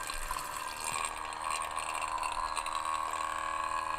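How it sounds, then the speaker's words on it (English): An OutIn Nano portable espresso machine sprays water through its nozzle during a cleaning cycle, giving a steady hiss over a low pump hum that runs continuously and close. "you can see it starts spraying water through"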